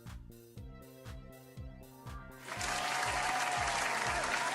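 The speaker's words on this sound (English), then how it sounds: "Oh, wow, the clapping's really loud." Clapping from a game-show audience starts partway through as a dense, steady wash of applause, loud and sustained, following a short repeating musical jingle.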